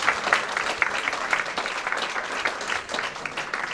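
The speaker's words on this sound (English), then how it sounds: "Can you please give a big round of applause" An audience at the Derby Diwali lights switch-on claps in a steady, dense round of applause, moderately loud and unbroken throughout.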